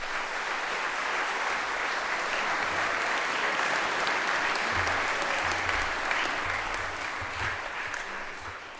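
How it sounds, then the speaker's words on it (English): Sustained audience applause at a chapel gathering, a thick, even roar of many people clapping, with some low rumble underneath partway through. "So let's have a nice round of applause for Michaela."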